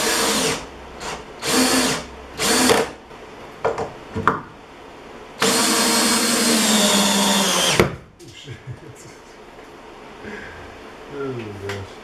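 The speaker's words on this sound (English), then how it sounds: "I'll go ahead and drill my lag screws." Power drill driving lag screws into a 2x4 while mounting an EarthquakeXT air hose reel, heard as several short revving bursts followed by one long sustained run of about two and a half seconds, close and loud.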